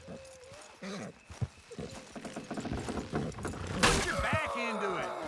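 Horses' hooves clip-clop in a steady trotting rhythm in the video game Red Dead Redemption 2, with a whinny and creaking movement, while voices talk over them.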